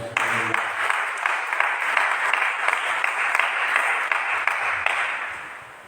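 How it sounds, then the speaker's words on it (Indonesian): A church congregation claps their hands in sustained, even applause lasting several seconds, with a brief voice at the start before the clapping fills the room. "mari kita tepuk tangan untuk Tuhan."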